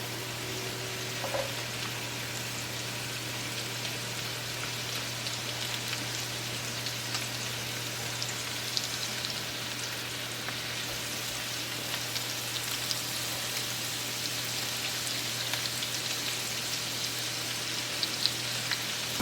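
Potatoes frying in melting butter in an electric frying pan with a worn non-stick coating give a steady, close sizzle that runs unbroken throughout, with a constant low electrical hum underneath and no talking.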